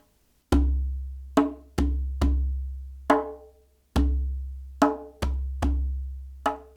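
Slow, steady hand drum strokes, about nine deep booming hits with ringing tones, spaced evenly and played alone without talking.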